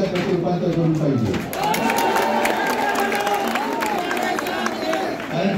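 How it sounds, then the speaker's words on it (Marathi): A large crowd roars and cheers continuously at an election rally in Ulhasnagar, Kalyan, with shouts and whoops rising over a dense, steady din throughout. "आज हा जो काही जल्लोष आहे"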